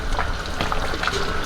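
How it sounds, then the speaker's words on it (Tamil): A pot of water at a rolling boil for a one-pot Ambur chicken biryani, giving a steady, dense bubbling and sizzling hiss that runs unbroken at close range. "நல்லா கொதிக்குது."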